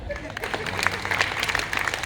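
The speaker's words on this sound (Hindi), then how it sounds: "ताली बजाओ" Audience at a Hindi poetry recital claps, a brief burst of scattered hands heard under a poet's continuing voice.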